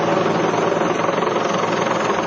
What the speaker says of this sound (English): Just after noon today, a helicopter delivered an Orange County Reserve deputy injured in the search for missing hiker Kendall Jack to Mission Hospital in Mission Viejo.